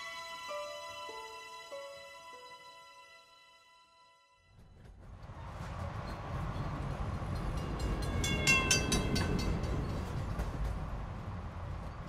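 A train gets going as a sound effect for an audiobook: a rising horn or whistle is followed by a swelling rumble and clatter of a running train that grows loud and continuous.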